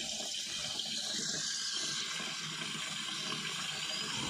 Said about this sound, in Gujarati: જોઈ લ્યો પાણી ભરાય છે